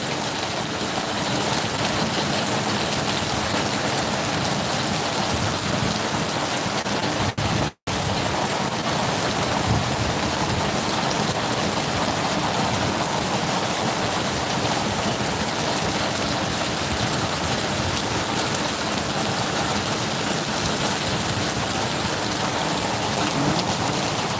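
Heavy rain pours steadily with large drops drumming on surfaces and a roll of thunder in the mix, a dense, continuous wash of sound with no voices, broken only by a brief cut partway through.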